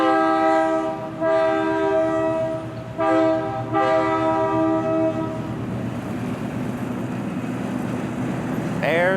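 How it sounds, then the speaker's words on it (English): A train at the Southeastern Railway Museum sounds its horn in several loud, sustained blasts, two long and one short, over a steady rumble of rolling railcars that continues after the horn stops. "There's the train."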